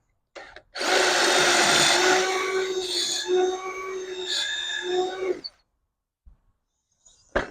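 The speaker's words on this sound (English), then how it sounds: "The faster your drill spins, the cleaner a hole you're going to get." A power drill with a pocket-hole jig whines steadily at high speed for several seconds, boring into wood, then stops; a few faint clicks follow in the quiet.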